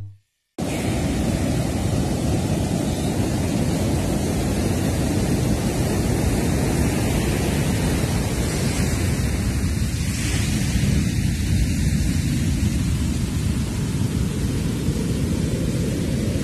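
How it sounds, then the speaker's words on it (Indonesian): Open-sea waves at Pantai Cemara Pangkalan beach in southern Tasikmalaya keep up a loud, steady broadband roar of surf without break, close and dominant, with no voices. "Biar kedengeran gemuruh ombak."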